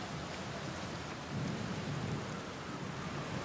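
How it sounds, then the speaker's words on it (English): Rain falls heavily and steadily in Outer Wilds, a dense hiss of drops on surfaces with a low rumble of thunder swelling briefly in the middle, with no voices. "enjoy the rain noise. Come on. Where's my storm?"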